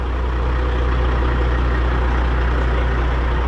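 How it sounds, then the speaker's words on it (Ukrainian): A loud, steady truck engine runs at high revs as the vehicle drives into a garage, a dense continuous rumble with no break and no talk over it. "Все, повний газ і в гараж."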